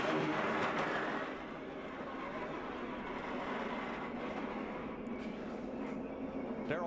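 Martin Truex's NASCAR stock car races at Daytona in a 2012 Budweiser Shootout. Its onboard engine gives a dense, continuous roar with steady rushing wind noise, loud and unbroken throughout.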